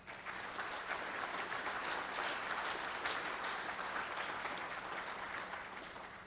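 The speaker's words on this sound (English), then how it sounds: "Let's have a round of applause." Sustained audience applause at an Army ROTC Cadet Command assumption of responsibility ceremony at Fort Knox, a dense, steady wash of clapping from a large crowd that holds at an even, fairly loud level throughout with no voices over it.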